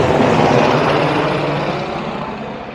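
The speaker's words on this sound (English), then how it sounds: "Oh, helicopter." A helicopter flies overhead in Washington, DC, its loud, steady rotor and engine roar filling the air and slowly fading as it moves away, with no talking.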